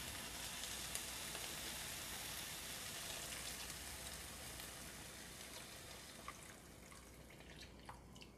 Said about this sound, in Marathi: आता आपल्याला त्यामध्ये दूध घालायचं आहे।